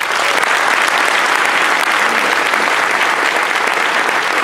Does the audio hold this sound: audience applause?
yes